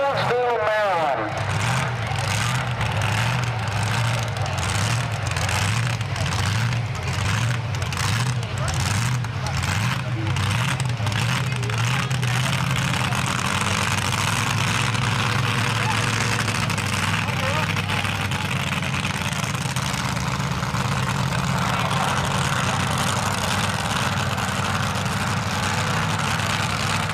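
A supercharged pulling truck called the Village Idiots, at a truck pull by a fire station, idles loudly with a steady low throb, then revs up hard and holds a dense, whining roar; an announcer talks over it throughout.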